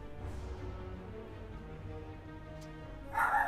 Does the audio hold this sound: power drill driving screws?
no